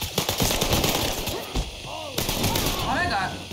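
Rapid bursts of gunfire in the video game Mafia 3 during a firefight, loud and close, mixed with shouting voices and battle noise.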